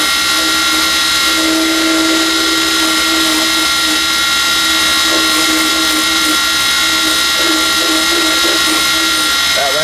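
A wood lathe spins a teardrop bottle stopper on a mandrel, giving a loud, steady whine with a constant hum and a faint scraping edge, running without pause throughout.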